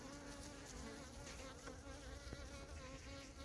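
A hornet buzzes steadily and close near an anti-hornet trap cone at an apiary, its faint wing drone continuous and wavering slightly in pitch.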